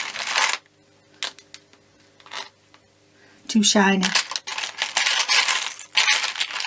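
Buttons clatter and rattle in bursts, with someone speaking briefly in the middle of the rummaging.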